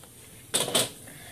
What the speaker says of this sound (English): let's go ahead and pull out the battery.